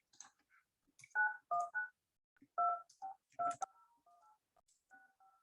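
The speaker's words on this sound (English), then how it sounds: "let's go ahead and just make this call here to my phone" Telephone keypad dialing tones from a VoIP call placed from a desktop to a phone, a quick series of clean, separate beeps at varying pitches, some longer and some brief, alone in a quiet setting.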